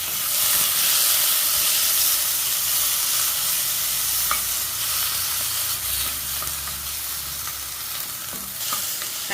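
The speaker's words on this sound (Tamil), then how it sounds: "தக்காளி நல்லா வதங்கிச்சு." Tomatoes sauté in a pan for a bat fish curry, giving a steady close sizzle and hiss with occasional soft stirring scrapes, constant and moderately loud with no talking.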